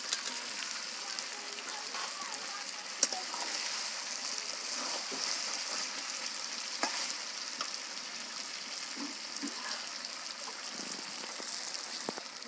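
Duck meat and potatoes for a duck curry fry with a constant close sizzle, broken by occasional soft stirring scrapes and clinks throughout; no voices.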